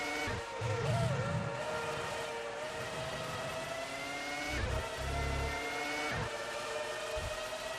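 Engine of a Sauber Ferrari Formula One car in a 2004 racing video game, a sustained high whine with rising and falling revs and short downshift bursts. Other cars pass nearby, and nobody speaks.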